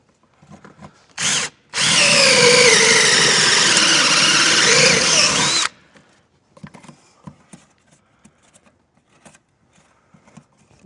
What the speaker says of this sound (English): You got to make that hole big enough for this connector to go through it. So that's pretty much all of a 1/2 inch unibit.